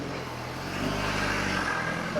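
A 4WD's engine drones steadily as the vehicle crawls up rocks on an extreme off-road track, a continuous mid-level rumble that swells slightly partway through, heard from nearby.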